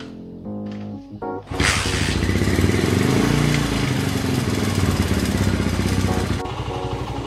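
A 2005 Honda GL Max motorcycle, cold, has its starter cranked briefly, then the engine catches and runs at a steady, loud, close idle that drops slightly in level near the end.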